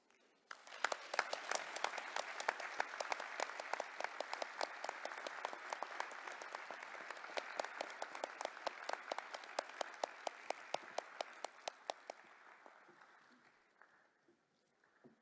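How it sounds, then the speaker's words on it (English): Sustained audience applause at the Wangari Maathai Forest Champions award ceremony: dense, even clapping from a sizable crowd that holds steady for about twelve seconds, then thins out and fades to quiet. "let us give another round of applause"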